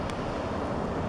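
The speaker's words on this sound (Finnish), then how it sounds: "koski pauhaa." Spring river rapids roar beside a campfire near Kemi, Finland: a dense, unbroken rush of water that fills the whole clip, with wind buffeting the microphone and no voices.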